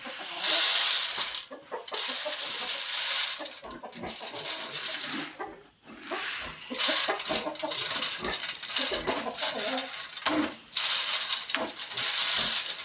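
Farm chickens cluck and squawk continuously for about thirteen seconds, a busy close flock with scattered bursts and short pauses, plus some faint background voices.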